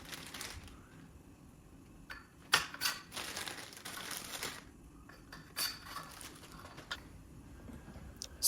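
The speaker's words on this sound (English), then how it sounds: "Remove the protective packaging and slide a securing nut onto each side." Protective packaging peeled off a Mud Daddy 12L Original handle and plastic securing nuts slid onto each side, giving scattered crinkles, taps and clicks in bursts with quiet gaps between.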